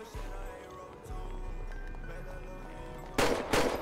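Gunfire in the Grand Theft Auto roleplay video game: two loud, sharp bursts of shots near the end, rising over steady game ambience with faint voices in the background.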